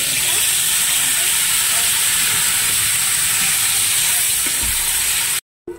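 Sugar and salt crackling in hot oil with sour curd, a steady broad sizzle and hiss held close and loud, cutting off abruptly near the end.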